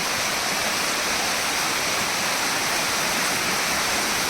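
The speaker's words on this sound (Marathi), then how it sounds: "एवढा पाऊस पडतोय जोरात, हा बघा." Heavy monsoon rain pours down in a village, a dense, loud, unbroken roar of water that fills the whole scene with no voices.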